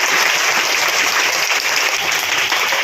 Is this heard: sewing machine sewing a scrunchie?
no